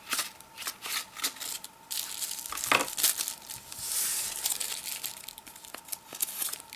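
Paper packaging around a USB stick is unwrapped nearby, giving bursts of crinkling and tearing rustles, with one sharper rip partway through and quieter handling between the bursts.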